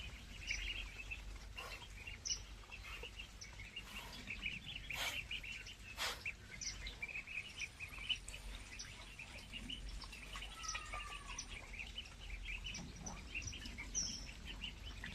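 Young deshi-breed ducklings, about 16 days old, on a small pond for their first bath, giving faint scattered peeps and chirps over a steady low outdoor background.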